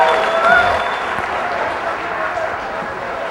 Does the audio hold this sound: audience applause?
yes